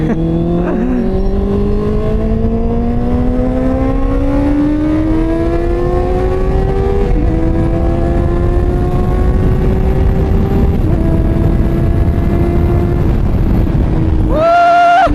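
A tuned Honda CB650 motorcycle exhaust revs up in long rising sweeps, several climbs in a row, loud and close, ending in a sharp high blip.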